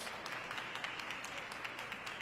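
Audience applause at a Martin Luther King Jr. Day remembrance event with the Georgia governor, a steady, fairly faint wash of many hands clapping from a crowd, continuing evenly without talk.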